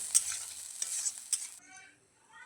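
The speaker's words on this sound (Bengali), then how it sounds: "মশলাটা দিয়ে একটু কষে নেব ভালো করে" Masala spice paste frying in a pan and being stirred, loud crackling sizzle with scraping strokes that stop about two-thirds through, leaving a softer bubbling fry at the end.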